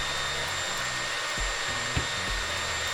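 A power saw motor runs steadily at full speed throughout, a constant loud whirring drone with a couple of faint knocks partway through, heard alone with no talking.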